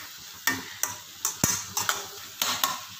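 Ginger garlic paste is sautéed in a pan for pav bhaji. Sharp spatula strikes and scrapes against the pan come roughly every half second over a light sizzle, close and clear.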